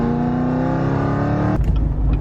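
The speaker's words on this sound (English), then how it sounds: "let me try a third gear pull again" A 1000-horsepower Camaro ZL1 accelerates hard in a third-gear pull, its engine droning loud and steady before abruptly cutting to a rougher, bursting exhaust note near the end.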